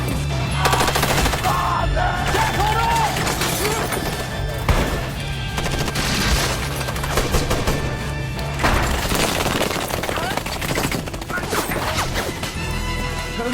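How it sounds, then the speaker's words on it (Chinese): Dense automatic gunfire riddles a house during a movie shootout in the film Four Brothers, with rapid bursts, sharp impacts and crashing debris, loud and near, and a narrator talking over parts of it. "密集的子弹如雨点般不断射来， 眨眼间便将房屋打得千疮百孔"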